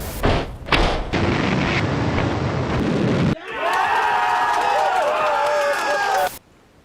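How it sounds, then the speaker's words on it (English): Space Shuttle Atlantis on its final liftoff, a loud broadband rocket roar with crowd noise, cutting after three seconds to a sustained rumbling launch sound with cheering voices, then ending abruptly. "Zero and liftoff, the final liftoff of Atlantis."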